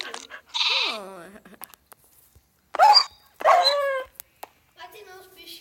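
A dog in the game Caverna Online barks in a couple of short bursts with brief pauses between, alongside bleats and other clipped game noises.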